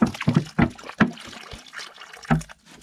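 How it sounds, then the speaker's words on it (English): Water poured into a worm bin of European nightcrawlers, heard as a series of splashy, uneven gulps and trickles, close and moderately loud, with pauses between pours. "I'm going to probably put almost a whole gallon of water in here"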